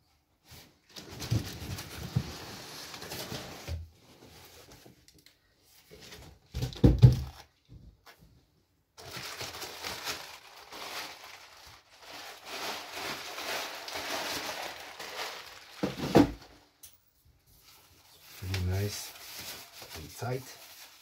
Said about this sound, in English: So I will be unpacking my first short scale bass.